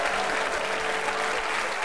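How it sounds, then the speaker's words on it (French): Studio audience at a French TV game show applauding, a continuous, even wash of many hands clapping heard from a slight distance, steady throughout with no voices on top. "On applaudit Ange, bien sûr."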